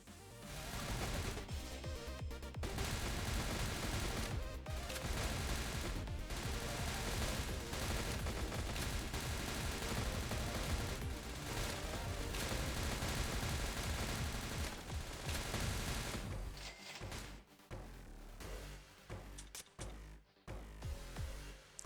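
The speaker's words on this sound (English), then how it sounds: "Going with a submachine gun." Submachine gun firing in the video game Snezhinka: Sentinel Girls 2, dense continuous rapid bursts lasting many seconds, loud and close, thinning out into sparser shots near the end with no talk.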